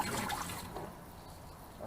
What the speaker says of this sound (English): For some reason we got water pouring in here.